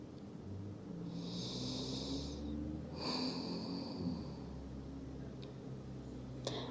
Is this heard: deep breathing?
yes